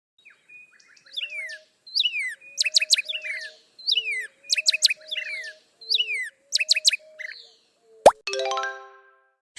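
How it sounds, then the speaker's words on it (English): Cartoon bird chirping in repeated bursts of bright, rapid tweets and warbles over about seven seconds, clear and close, followed by a sharp plop and a ringing boing-like tone with no talk. "bird,"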